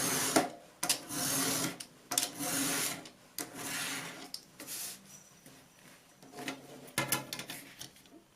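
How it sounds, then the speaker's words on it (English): Scissors snip through the paper edge of a handmade sticker booklet, a series of short crisp cuts with brief pauses between them, close and fairly quiet, with no talking. "Final step is to trim the edge neat."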